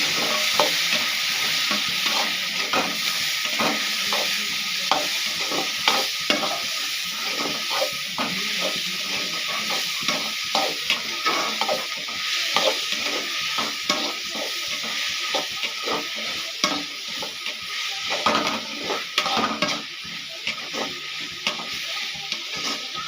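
Chicken gravy ingredients, with tomatoes just added, sauté in a hot pan: a steady, close sizzle with frequent scraping stir strokes throughout and no talking.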